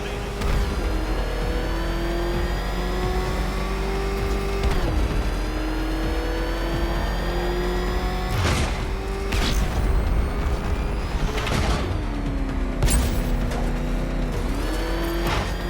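Batmobile engine in the video game Batman: Arkham Knight, revving loud and close with a steady roar that swells and drops through repeated throttle bursts, with occasional sharp impacts and skids, no talking.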